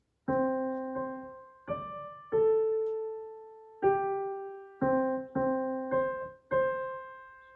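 Slow piano phrase from a song from Disney's Moana, a run of about nine separate struck notes and chords, each ringing out and fading, played alone at moderate volume with no talking.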